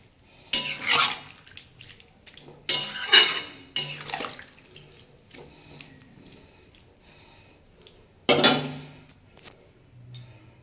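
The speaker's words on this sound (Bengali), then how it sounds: "আমি এবার এর মধ্যে জল দিয়ে দেবো" Water going into a pan of cooked-down curry with broccoli and prawns: splashing pours in several bursts with metallic pan knocks between them, close up and with no talking.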